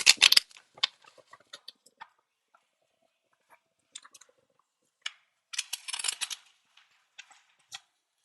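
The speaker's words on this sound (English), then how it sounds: "Two more shuffles." Tarot cards shuffled by hand in sparse bursts of crisp riffling and tapping, with a louder flurry near the start and another in the middle, separated by near silence; no voices.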